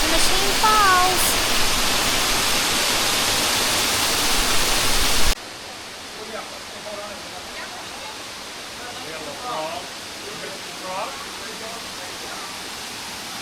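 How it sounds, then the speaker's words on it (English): Steady broadband roar of Machine Falls waterfall at Short Springs Natural Area, loud and close at first, then dropping to a softer, more distant rush, with a voice speaking over it and faint bird calls. "Standing here, listening to the roar of Machine Falls"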